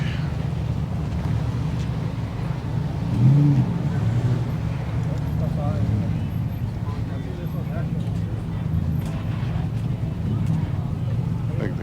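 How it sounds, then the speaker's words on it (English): Classic cars rolling into a car show at the Long Beach swap meet, a steady low engine rumble running through the whole stretch with a slightly louder pass near the start, under outdoor wind and crowd ambience. "Cars are starting to roll in here."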